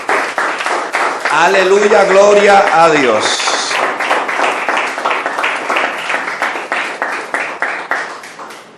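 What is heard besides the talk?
applause from congregation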